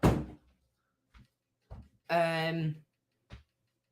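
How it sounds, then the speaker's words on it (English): A door shuts with one loud, close thud at the start, followed by a few soft knocks and a brief voiced sound in an otherwise quiet room. "Let me shut that door."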